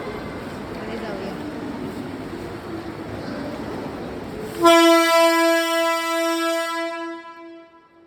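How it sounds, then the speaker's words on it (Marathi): Kerala Sampark Kranti train arriving at Panvel station: rumbling approach and platform noise give way to a loud, sustained horn blast that holds for a few seconds, then fades out. "ट्रेन लागते ते बघूया"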